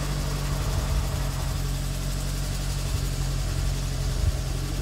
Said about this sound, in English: Let's see if the clutch works.